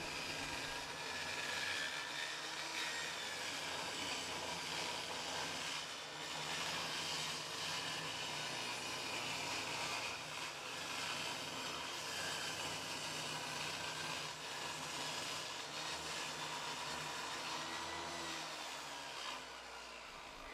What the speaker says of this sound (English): Even with my table saw blade set to the max height, I still wasn't able to make the cut with just one pass.